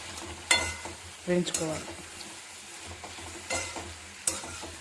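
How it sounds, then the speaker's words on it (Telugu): Onions or similar vegetables frying with salt and turmeric in a pan until soft, with a steady soft sizzle broken by a few sharp utensil scrapes and stirring clatters, close and moderately loud. "కొద్దిగా పసుపు వేసుకొని మెత్తబడేంత వరకు వేయించుకోవాలి."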